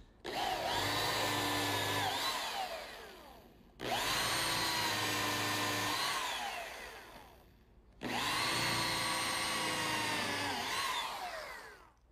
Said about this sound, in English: Now a pilot hole and countersink.